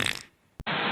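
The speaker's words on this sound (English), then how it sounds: "I'm about to fart right now." A brief fart, short and fairly faint, heard alone as a quick low burst near the end after a small earlier blip.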